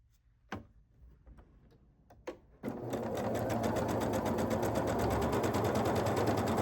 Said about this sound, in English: I got to finish sewing this row together